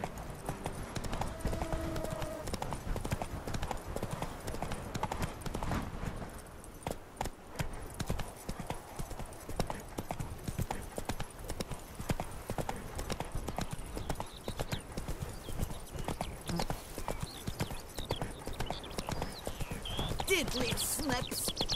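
Video game horse Roach from The Witcher 3 galloping, rapid hoof clip-clops drumming continuously and close, with a brief whinny-like tone early on and a voice speaking over parts of it.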